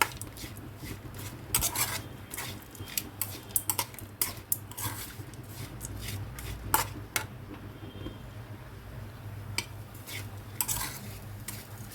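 Chopped ivy gourd and grated coconut are stir-fried in a pan, with a low steady sizzle under frequent sharp scrapes and clacks of a spatula against the metal, irregular and close.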